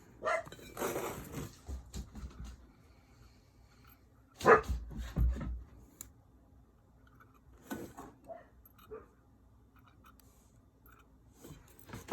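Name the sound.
dogs barking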